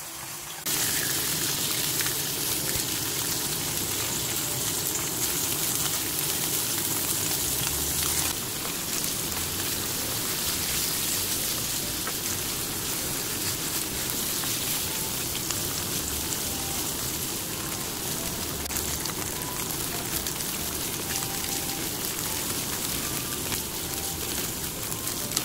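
Tofu pieces frying in hot oil under a covered pan, giving a steady, dense sizzle and crackle that runs unbroken throughout at moderate loudness, with no talking.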